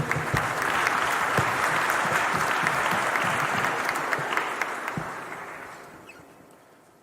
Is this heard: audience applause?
yes